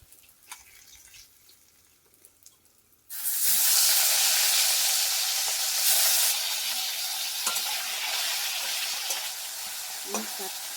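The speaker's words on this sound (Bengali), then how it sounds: "মাছগুলোকে আমি হালকা করে ভেজে নিচ্ছি" Four whole fish lightly frying in a pan, a loud steady sizzle that erupts suddenly after a few seconds of quiet kitchen sounds and keeps hissing to the end.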